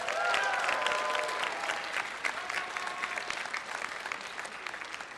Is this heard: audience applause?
yes